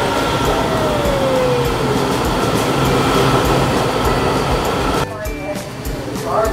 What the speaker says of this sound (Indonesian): Kereta kita datang.